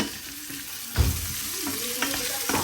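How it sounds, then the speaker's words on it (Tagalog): Carrots sizzle in a hot pan with onion and garlic as chop suey vegetables are sautéed, a steady close frying hiss broken by a few louder stirring scrapes and clatters, with no voices. "Ayan, ginagisa na yung carrots."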